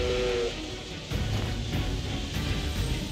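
Steam whistle of the Steam Tank in Octopath Traveler 2, a brief high whistle tone at the start followed by a loud, continuous hissing rumble of steam machinery.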